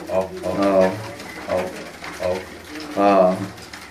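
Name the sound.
pure Aseel Teddy pigeon cooing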